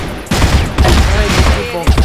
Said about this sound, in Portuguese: Você tá ouvindo tiro pra caralho.